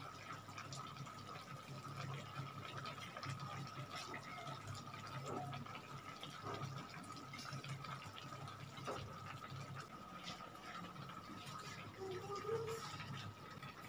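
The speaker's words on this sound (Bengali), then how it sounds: "তা আমি এর মধ্যে গুলিয়ে গুলিয়ে এই কর্নফ্লাওয়ারটা দিচ্ছি।" Cornflour slurry poured and stirred into a pan of chilli chicken with partly boiled potatoes, giving steady liquid sloshing and scraping, with a few brief clinks, continuous throughout.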